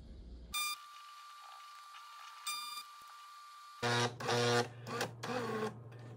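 A Jura A1 coffee machine runs its tablet cleaning cycle, giving short electronic beeps, quiet gaps, then bursts of pump buzzing and whirring close by.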